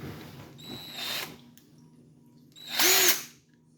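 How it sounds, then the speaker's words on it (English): A heavy duty power drill whirs in two bursts, a shorter run followed by a louder, higher-pitched spin that winds up and then down, close and alone. "this is like a heavy duty power drill."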